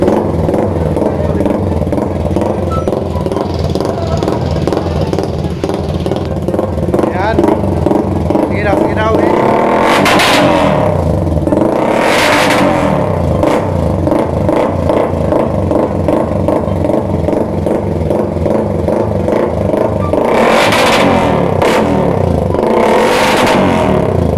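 A motorcycle engine idles loudly, then revs sharply several times with rapid backfiring bursts of clatter, constant engine rumble throughout with voices talking over it.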